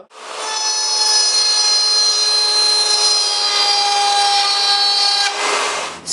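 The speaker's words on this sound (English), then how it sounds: "And now I will be placing a shallow groove into the edge of the board for a spot for the piece of 1/8" metal to go." A power tool cuts a shallow groove into the edge of a wooden board to hold a piece of 1/8-inch metal. The loud, steady whine holds for about five seconds, then winds down.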